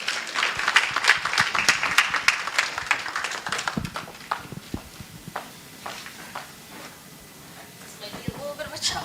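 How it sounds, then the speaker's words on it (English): Audience at a grand launch event applauds a welcomed guest; dense clapping fills the first few seconds, then thins to scattered claps as voices begin to speak. "Please welcome her with a hand of applause."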